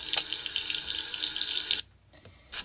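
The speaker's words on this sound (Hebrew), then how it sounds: "עכשיו לעשות מים לגוף." Water runs from a tap for body washing in the Pazu video game, a loud steady splashing stream that cuts off abruptly, followed by a quiet pause and a brief final spurt.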